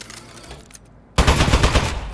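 Rapid automatic gunfire from an Aperture Science turret in the Aperture Desk Job video game, a loud, dense burst that starts abruptly after a brief quieter stretch.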